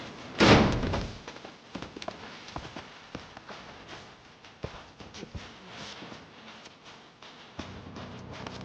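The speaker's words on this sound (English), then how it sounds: "Fireworks." Fireworks in the video game Max Payne 3 go off with one strong bang near the start, followed by a scattered string of fainter pops and crackles over a low background.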